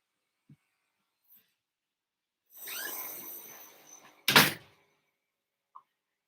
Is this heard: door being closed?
yes